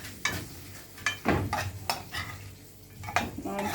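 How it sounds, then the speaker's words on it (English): Pepper steak with sweet pepper, tomato and carrot stirred in a pan, a utensil scraping and clinking against metal in several distinct strokes over a soft background sizzle, close and moderately loud. "And stirred."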